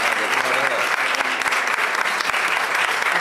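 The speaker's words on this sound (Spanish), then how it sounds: "Un fuerte aplauso por el descubrimiento" Steady applause from a gathered crowd at a community museum's anniversary event as a plaque is unveiled, a thick continuous patter of many hands with voices faintly mixed in.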